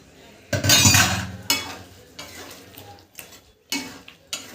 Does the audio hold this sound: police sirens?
no